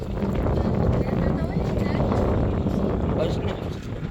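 A tractor on a farm plot rumbles close by with a dense, steady low engine drone, buffeted by wind noise across the microphone for the whole stretch.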